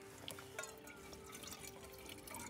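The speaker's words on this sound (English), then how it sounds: "when it's full, the water comes out even more because there's more pressure" Water streaming from a hand-squeezed backpacking water filter on a spring trail, a faint continuous trickle and splash with small surges.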